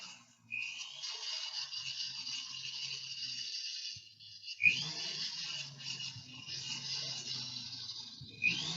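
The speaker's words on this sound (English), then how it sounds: "I'm just brushing on the blue and purple just to see if it exposes a lot better" A brush spreads blue and purple colour across a cut stone with soft, continuous scratchy rubbing. The brushing is close and quiet, with a short pause in the middle before the strokes resume.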